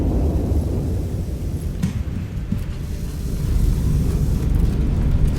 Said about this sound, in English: So our lift cannon will be firing first. So we get that down, and we fire.